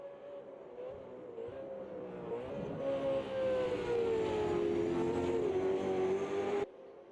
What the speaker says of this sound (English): it's just a big train of thundering V8s